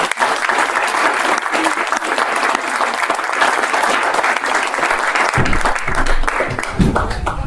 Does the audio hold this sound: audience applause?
yes